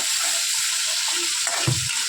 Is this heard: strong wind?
no